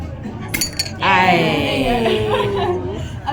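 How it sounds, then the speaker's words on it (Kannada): Dishes and cutlery clink briefly at a meal table during a Kerala-style meal in Melbourne, a few light chinks near the start, followed by close voices and chuckling laughter. "Did you want me to clear some of these dishes?"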